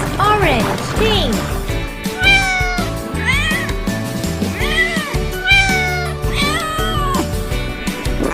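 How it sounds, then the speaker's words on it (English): A cat meows several times in rising, drawn-out calls, loud and close over a playful children's music backing. "Cat."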